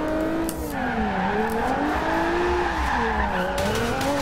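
Continuous engine roar with a wavering pitch as a car drifts in the video game Forza Horizon 2, tires squealing steadily throughout, loud and close.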